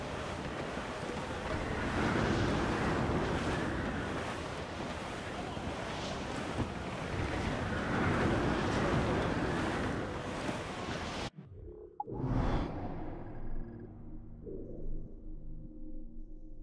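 A sailing ship ploughs through a storm in Assassin's Creed IV Black Flag, with loud, roaring wind and crashing waves surging for about eleven seconds before cutting abruptly to a quieter passage with sustained musical tones.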